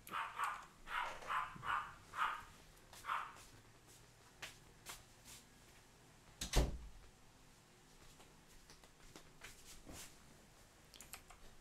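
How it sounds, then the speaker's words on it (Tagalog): A run of about six sharp dog barks comes in quick succession at moderate distance, followed by quieter scattered knocks and one loud thump, with no talking over it. "Medyo ang ingay ng mga aso ko eh"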